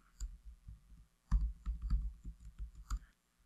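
Soft, close keystrokes on a computer keyboard while logging in to a CentOS 7 virtual machine, an irregular run of quiet clicks with a short pause before a faster burst.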